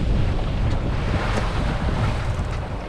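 A boat heads out to open sea in the Svalbard Arctic, with steady wind buffeting the microphone and small waves washing around the hull in a continuous, fairly loud rush.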